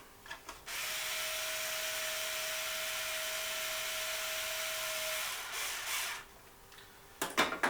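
A power driver runs screws in while an RC car is assembled, one steady whirring run of about four seconds, fairly quiet and close, with short bursts of handling noise before and after.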